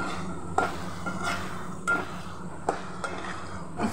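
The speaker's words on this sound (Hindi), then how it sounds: "उसके बाद हम इसमें डालेंगे सोयाबीन जो मैंने पानी में भिगो के रखा हुआ था। देखिए, उसके बाद इसको चला लेंगे" Soaked soybean chunks stirred with masala in a cooking pan, the spoon scraping and clinking against the metal in several distinct strokes over a low background, with no talking.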